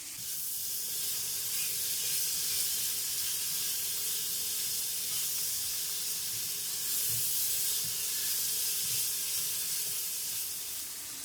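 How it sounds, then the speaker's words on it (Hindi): Spices for mutton korma fry in a pot with a continuous, even sizzle and hiss that holds steady throughout with no talking. "2 मिनट के लिए हम मसाले को भून लेंगे।"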